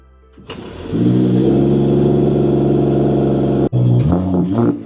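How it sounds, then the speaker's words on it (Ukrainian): A Mercedes-AMG GT warming up after a cold start, a loud, close, steady idle rumble that holds for seconds, dips briefly, then blips and revs unevenly. "поки я прогріваю машину"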